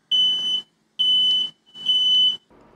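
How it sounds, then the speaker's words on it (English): A smoke alarm set off by soldering fumes while repairing a dead Nintendo Switch gives three loud, shrill beeps of about half a second each, evenly spaced, then starts a fourth. "the fumes still managed to set off my fire alarm"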